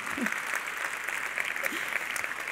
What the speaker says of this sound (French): Vous pouviez applaudir quand même